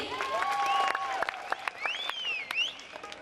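An audience at a Mappilappattu music stage show gives scattered applause, with sharp claps mixed with whistles and raised crowd voices over the hall's ambience.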